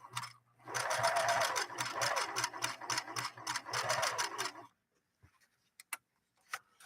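A Singer 6212C sewing machine runs a wide zigzag stitch on stiffened 100% cotton, a close, fast rhythmic clatter for about four seconds, then stopping, followed by a few faint clicks.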